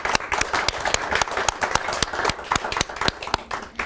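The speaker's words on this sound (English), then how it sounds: "let's give a big round of applause to our guest from SAMAR" Studio audience on an Indian talk show applauds arriving guests, a steady burst of close, dense clapping with a few sharp individual claps standing out, filling the whole stretch.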